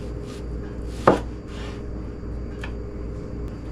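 A knife cuts vegetables for fajitas on a board, with one sharp chop standing out among a few softer cuts, close and quiet, and no talk.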